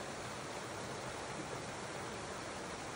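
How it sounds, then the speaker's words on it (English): Steady, broadband rush of a 10-meter waterfall at Smokey Hollow Falls in Waterdown, water pouring continuously and filling the air with an unbroken hiss and roar, close and even throughout, with no voices. "It is a 10-meter waterfall, and the water flows down into Grindstone Falls."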